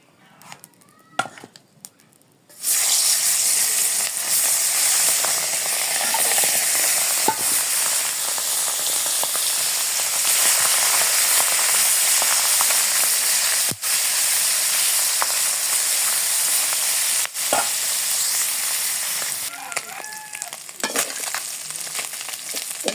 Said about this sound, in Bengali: এই কড়াই তাপ হয়ে গেছে গা, মাছটি আন দিয়ে দিই।